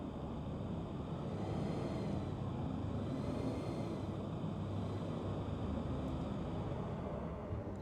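A steady low roar from the Aegis Sabre Raven ship's engine in the Star Citizen game, heard from outside the craft, holding an even, broad rumble for several seconds with no voices.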